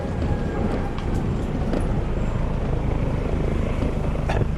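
An AW169 helicopter drones steadily at a moderate distance, its low rotor chop continuous throughout with no voices.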